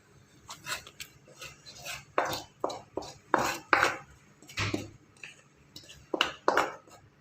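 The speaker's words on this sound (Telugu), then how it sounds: "మనం ఈ పోపు అంతా ఇందులో వేసేసి కలుపుకోవాలి అంతే" Clattering scrapes of a spoon stirring tempering into uggani in a metal pot, in irregular bursts, fairly close and with no talking.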